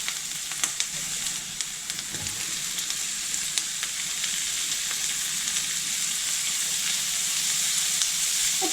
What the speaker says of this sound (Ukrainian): Коли цибулька злегка підсмажилася, стала така напівпрозора, можна додавати перець.